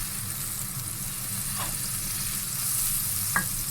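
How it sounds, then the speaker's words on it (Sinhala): About one and a half teaspoons of butter sizzles and crackles steadily in a hot pan, a soft continuous frying hiss with a couple of faint clinks, no one speaking. "බටර් තේ හැඳි එකමාරක් රත් වෙන්න තියාගත්තා"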